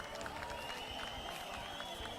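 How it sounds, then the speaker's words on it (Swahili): An audience at a political delegates' meeting in Kenya applauds, with women ululating; dense, steady clapping and crowd noise holds throughout, with a high, wavering trill running above it. "Tupigeni makofi na vigelegele kina mama."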